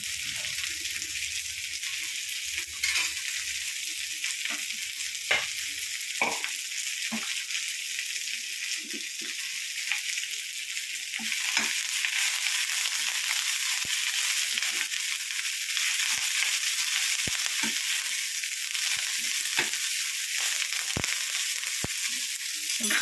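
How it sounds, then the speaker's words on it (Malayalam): Ground paste poured into a sizzling jackfruit seed and drumstick leaf curry, a loud continuous hiss with scattered pops and crackles that carries on steadily, close up with no talking. "നമുക്ക് അരപ്പം ഒഴിച്ച് കൊടുക്കാം"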